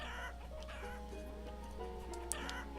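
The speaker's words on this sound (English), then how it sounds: "the cattle and the chickens are going this way" Chickens clucking in the city-building game Banished, a steady layer of soft clucks and faint bird calls over low ambient hum.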